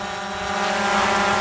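A drone near the Kern River gives off a steady, high, whining propeller buzz, a brief close hum that holds level throughout.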